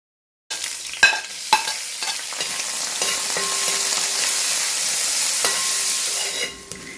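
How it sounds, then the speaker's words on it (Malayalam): Sliced shallots and ginger frying in a pan for a Kerala fish curry, a continuous close sizzle with a few sharp clinks of a utensil early on, then a steady hiss that fades near the end. "ഉള്ളിയും ഇഞ്ചിയൊക്കെ ഇവിടെ മൂത്ത് വരുന്നുണ്ട്"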